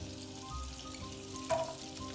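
About four cloves of garlic sizzling in hot oil in a pan on a gas stove, a soft, continuous frying hiss with a small clink partway through.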